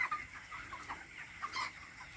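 Young 28-day-old chicks in a poultry shed peep and cluck steadily in a dense, close chorus, with sharper calls rising now and then over the flock.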